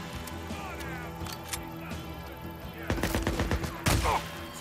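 Shotgun blasts boom in the zombie-survival game Days Gone, a few sharp loud shots bunched near the end over a tense music bed and background noise.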